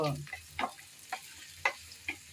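Chopped onions being stirred and fried in a pan toward brown for a radish-leaf dish, a low sizzle beneath a few sharp, evenly spaced spatula taps against the pan.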